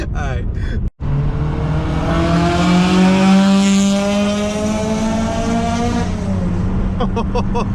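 The engine of a 1996 Honda Civic EK race car holds a loud, steady high rev for several seconds, opening with a short burst and a brief gap before the drone.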